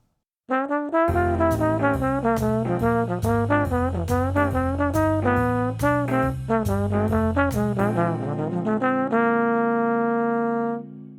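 A melodic bebop blues instrumental solo of quick, clearly articulated note runs over a steady accompaniment, played loud and continuous, ending on a long held chord.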